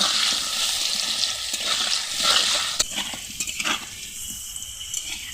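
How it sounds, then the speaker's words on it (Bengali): Potato pieces fry in oil over medium heat, a steady close sizzle with occasional stirring scrapes, no voices. "আলুগুলোকে মিডিয়াম আঁচে রেখে লাল লাল করে ভেজে নেব"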